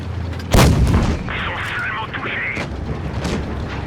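A tank cannon fires in the video game World of Tanks Blitz, one loud booming shot near the start that decays into rumbling battle noise, followed by a rising whine and lighter impacts.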